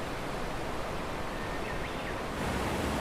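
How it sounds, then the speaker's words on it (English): A mountain stream beside a forest road in Japan, swollen into roaring flood after heavy rains, rushes as a steady, dense broadband wash, close and unbroken, with no voices. "Even the normally gentle stream this road follows is in roaring flood."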